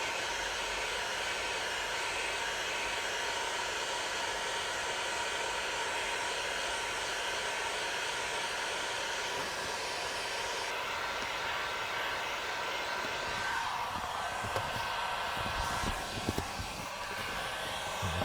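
A heat gun warms a panel on a Volvo S60R being rebuilt, giving a continuous airy blowing hiss that holds steady and fairly quiet, then shifts slightly toward the end with a few soft handling noises.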